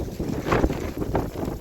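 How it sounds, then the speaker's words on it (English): Gusty wind buffeting the microphone outdoors in Central Park, a rough broadband rumble with rising and falling swells, close and fairly loud, no voices. "Wind. They said it was windy."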